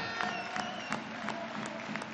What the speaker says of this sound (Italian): Un applauso ai portieri del Novara